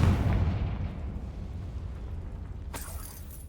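A Confringo blasting spell explodes in Hogwarts Legacy, a heavy booming blast that decays into a rumbling tail, with a sharp crackle near the end.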